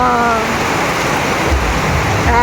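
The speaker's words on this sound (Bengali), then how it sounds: "কি বৃষ্টি কি বৃষ্টি বাবা" Heavy rain pours down in a dense, steady roar that fills the air from start to end, loud and close, with no gaps.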